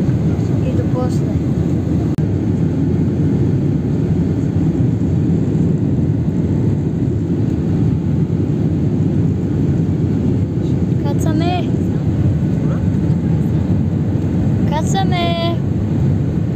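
Loud, steady airliner cabin roar during landing approach on a flight to Bologna, a dense rumble filling the whole span, with a few brief voices breaking in over it near the end.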